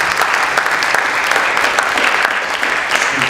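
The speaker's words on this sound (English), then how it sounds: "Give yourselves a round of applause." An audience at a teen distracted-driving workshop applauds, a dense, steady clapping close by throughout.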